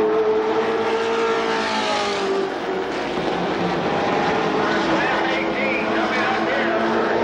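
Stock cars roaring past at Winchester Speedway in 1993, a dense, loud engine drone with rising and falling pitch as cars battle side by side, under a race announcer's continuous commentary.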